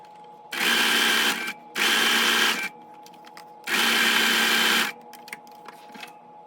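A sewing machine stitches along a raw fabric edge in three sustained whirring runs of about one second each, loud and close, separated by brief quiet pauses with small mechanical clicks.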